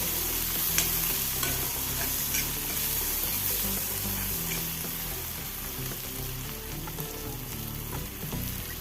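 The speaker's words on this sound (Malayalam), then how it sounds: "കുറച്ച് ഉപ്പ് ചേർത്ത് കൊടുക്കാം ഒന്ന് ഇളക്കി കൊടുക്കാം" Jackfruit seed curry sizzles steadily in a frying pan while a spoon stirs it, with scraping and occasional taps close up and no voices.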